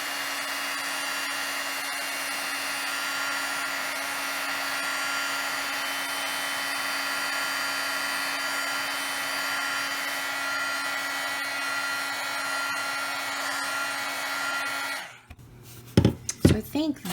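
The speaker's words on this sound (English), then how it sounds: "So you just apply heat using your heat tool." A heat tool blows hot air to melt crayon for a mixed media card, a loud, steady whirring hum lasting about fifteen seconds before cutting off, followed by a few clicks and knocks.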